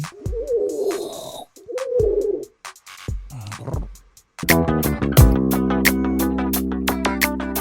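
A pigeon coos at Wankhede Stadium in a few soft, throaty rounds that rise and fall. Sharp clicks come between them, and then a loud burst of layered tonal music takes over.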